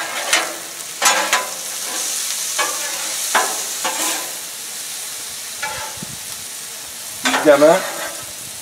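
Garlic frying gently in a pan over low heat, a soft steady sizzle under a few brief bursts of speech and occasional stirring scrapes.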